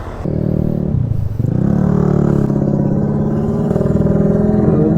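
A motor scooter like a Yamaha X-Max pulls away and accelerates close by, its engine note dipping briefly before climbing into a steady, strong rising drone with no talking.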